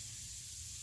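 Silver metallic paint hissing steadily from a spray gun during a lawnmower refinishing job, a continuous broadband spray close by with a low hum underneath, no talking.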